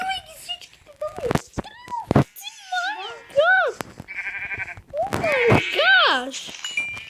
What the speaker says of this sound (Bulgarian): Овци! Бързо, овци!